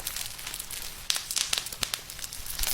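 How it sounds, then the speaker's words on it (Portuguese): Campfire sound from the Roblox video game, produced by squeezing bubble wrap: a steady bed of dense crackling with sharp snapping pops scattered throughout, fairly faint and close, with no talking. "Pra fazer o som das fogueiras em Roblox, não gravaram fogo real. Só apertaram plástico bolha e o som ficou perfeito."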